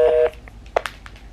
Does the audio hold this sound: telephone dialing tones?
yes